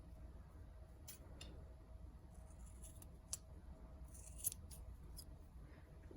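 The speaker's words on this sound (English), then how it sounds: "Just cut a little bit of fabric off so that it doesn't stick out." Scissors snip through apron fabric in a few short, crisp cuts spaced irregularly, close and quiet against a soft, low background hum.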